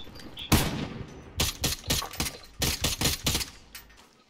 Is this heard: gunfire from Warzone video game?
yes